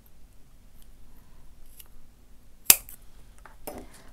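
Scissors snip through yarn at the end of a crocheted macrame crossbody bag, a single sharp close cut standing out from a quiet room, followed by a softer rustle.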